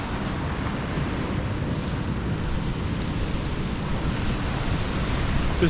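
Sea waves breaking along a rocky coast near a sea stack, a continuous roaring wash of surf mixed with heavy wind buffeting the microphone, steady and loud with no talk.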